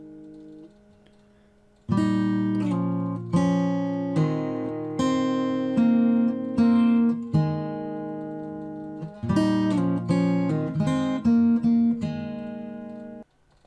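Fingerstyle acoustic guitar slowly picks a passage from a piece, each plucked chord ringing out in a steady, unhurried rhythm after a quiet start, close and clear with no talking.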